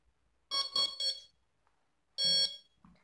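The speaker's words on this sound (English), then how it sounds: "The three sounds that you hear is, I told you that the battery is 3S. So it will, the motor will sound three times." Electric motor of an RC plane chirps three times as its ESC arms on a freshly connected 3S battery: three quick tonal beeps in a row, a pause, then one more long loud tone, with a faint click after.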